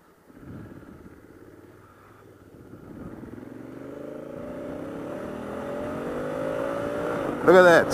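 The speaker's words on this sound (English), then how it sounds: "That was full throttle and I reached 140 in no time." A 2016 Honda Africa Twin motorcycle accelerates hard at full throttle, its engine note climbing steadily in pitch and growing louder over several seconds, with a sharp burst of wind or mechanical noise at the end.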